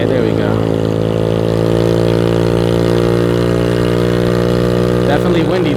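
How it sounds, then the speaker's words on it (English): Small moped engine running steadily near by, a Derbi-type 50 cc two-stroke fitted with a larger 26 mm carburetor, holding a constant buzzing idle with strong harmonic hum, briefly joined by a faint voice near the end. "So I put a bigger 26 millimeter carburetor in there"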